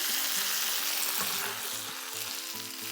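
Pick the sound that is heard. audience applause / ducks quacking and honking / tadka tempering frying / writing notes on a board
tadka tempering frying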